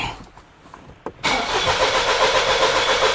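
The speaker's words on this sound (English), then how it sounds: "let me crank this thing and let's check what's happening" A 2020 Ford Escape engine cranks with a brief starter whir, then catches and runs loudly with a steady, close engine roar for the rest of the moment.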